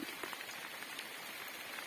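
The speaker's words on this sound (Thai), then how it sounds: "ตกแรงมากครับ ตอนนี้ฝนครับ" Heavy rain pours down outdoors in the hills, a dense, continuous hiss of drops hitting surfaces, with no voices.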